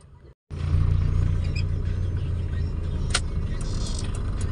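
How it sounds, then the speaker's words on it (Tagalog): Road traffic idling and creeping past a gate, heard as a steady, close engine rumble that starts abruptly after a brief gap and holds at an even level throughout. "Traffic lang dito sa Gate 1 eh."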